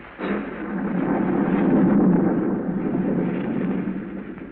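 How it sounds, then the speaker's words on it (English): A radio drama thunderstorm sound effect of a storm raging over the countryside: one long, loud, continuous rumbling roar that swells after a sharp onset and slowly eases, alone with no voices. "A storm rages wildly over the countryside."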